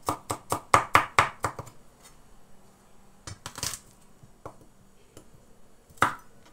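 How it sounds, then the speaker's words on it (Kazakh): Garlic is chopped with a knife on a board in a quick burst of about eight sharp, close taps, followed after a pause by a few more scattered chops. "Енді сарымсағымызды сақтап турап қосамыз."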